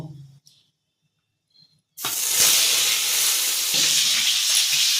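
Dried red chillies and panch phoron hitting hot oil for Bengali sukto, a sudden loud sizzle that bursts in after a quiet pause and keeps hissing and crackling steadily close by.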